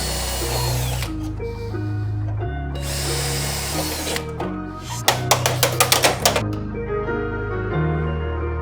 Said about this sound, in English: the next step was to rivet in the support plates, which is what the intercooler is actually going to be mounted to